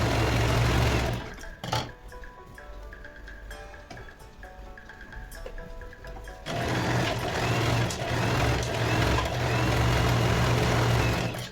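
Electric sewing machine stitching along the edge of fabric for a small handmade drawstring pouch, running in steady bursts with a loud mechanical whir that pauses briefly in the middle before starting again.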